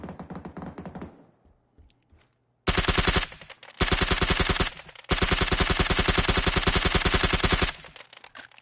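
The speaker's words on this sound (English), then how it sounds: "Yeah, I'm gonna shoot really quick." Rapid automatic bursts from a suppressed SCAR rifle in the video game PUBG: a short volley, a pause, then three long sustained strings of crisp, close shots.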